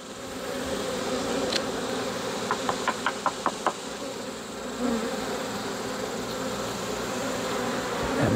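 A steady, dense hum of honey bees buzzing near a corner hive during an inspection, with a brief run of quick light taps partway through.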